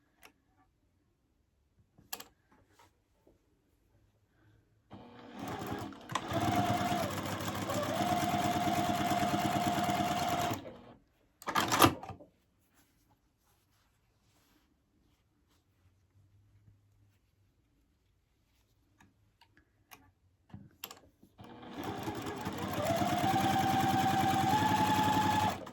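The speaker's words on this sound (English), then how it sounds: "put them through my sewing machine and at a 1/4 inch seam" A sewing machine stitches a 1/4 inch seam in cotton quilt pieces in two steady stretches of rapid stitching, a fast mechanical whir, separated by quiet pauses with a few small clicks.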